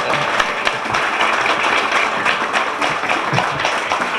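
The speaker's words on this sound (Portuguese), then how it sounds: "Aplausos pro Felício." Steady applause from a crowd, a dense wash of clapping holding at an even level throughout with no talking.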